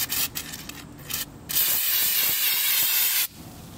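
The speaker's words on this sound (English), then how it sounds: "I'm gonna go ahead and just spray this." Paint stripper sprayed onto the body of a 1964 Volkswagen Beetle: a loud, steady aerosol hiss lasting nearly two seconds, preceded by a few short bursts and quiet handling noises up close.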